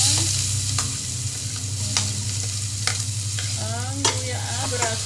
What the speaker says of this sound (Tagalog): Yan po ang aking ginigisa sa aking curry.